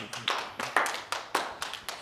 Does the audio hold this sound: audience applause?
yes